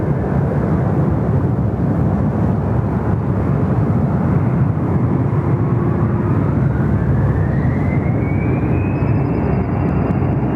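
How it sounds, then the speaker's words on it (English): A China Southern airliner on final approach to runway 34 left at Sydney Airport makes a loud, sustained jet roar with a rising engine whine that climbs across the second half. "Look at that beautiful China Southern on finals there for runway 34 left."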